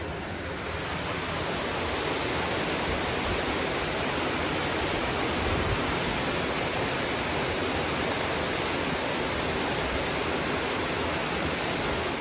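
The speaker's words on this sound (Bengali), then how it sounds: "শাপলার জন্য পানি গরম দিছিলাম, পানি ফুটছে।" Water boils hard in a pot on a home kitchen stove, heated for cooking water lilies, giving off a loud, even, rushing roar that holds steady throughout with no talk over it.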